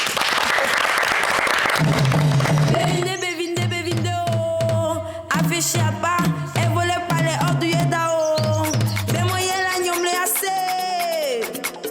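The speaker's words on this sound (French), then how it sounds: "On applaudit, s'il vous plaît." A studio audience on a TV entertainment show claps in a short, loud burst that gives way after two seconds to a song with music and a singing voice.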